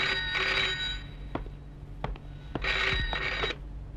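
An old-style telephone bell rings in two bursts separated by a pause in a Hindi film scene, with a few soft clicks between rings and no talking.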